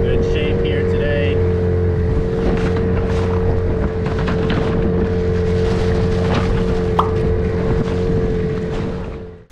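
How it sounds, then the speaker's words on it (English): An outboard motor drives an inexpensive inflatable boat across the ocean, a continuous loud engine drone with a steady hum, mixed with wind buffeting the microphone. "we're just going to really test out the engine, make sure the engine's in good shape here today"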